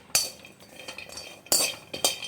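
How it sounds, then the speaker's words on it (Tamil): Cashews and mixed seeds are stirred in a pan as they roast, giving a few sharp metallic scrapes and clinks of the spoon against the pan, with quiet rustling in between and no talking. "இது எல்லாத்தையும் போட்டு நம்ம நல்லா வறுத்துக்கலாம்"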